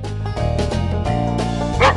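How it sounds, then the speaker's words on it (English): Playful dog barks in the Lingo Kids farm-animal stacking game, a couple of short yips over cheerful game music, loud and close. "Dog."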